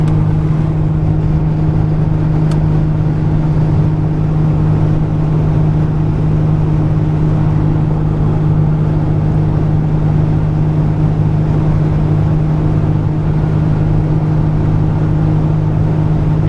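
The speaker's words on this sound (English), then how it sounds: "Methanol injection kicked on there, and you can really hear the turbo spool really well." Inside a 1986 Buick T-Type with methanol injection, a steady engine drone and the whine of its spooling turbo fill the cabin at highway speed, loud and continuous with no talking.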